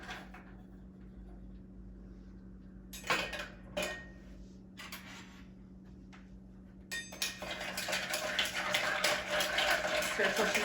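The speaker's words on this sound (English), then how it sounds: "Drop some ice in." Ice drops into a glass for a stirred Negroni: a few sharp clinks and knocks, then a louder clattering rush of cubes settling.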